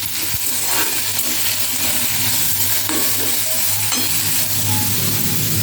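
Chopped green chillies fry in a pan with a constant loud sizzle up close, with a few brief clinks and scrapes of a utensil and no talking.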